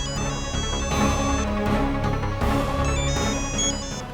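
A melodic electronic phone ringtone plays continuously and fairly loud, its bright tune repeating without any voices.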